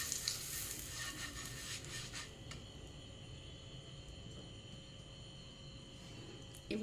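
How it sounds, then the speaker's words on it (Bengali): Butter sizzles softly in a hot pan as it is spread around before making paneer kulcha, a faint, continuous crackle with light scraping near the start. "এবারে বাটারটা একটু ছড়িয়ে দিচ্ছি।"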